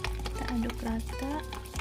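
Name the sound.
stirring Lebanese vegetable salad with pepper and sugar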